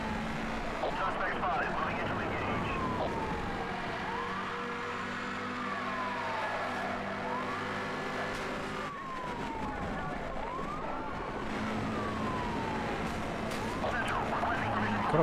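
Police sirens wail continuously during a car chase in the racing game Need for Speed Hot Pursuit, the rising and falling tones sweeping over engine roar while a voice talks.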